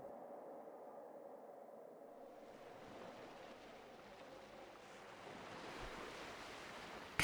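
Soft harbour waves lap and wash in a quiet, continuous murmur that grows a little fuller toward the end, with no voices.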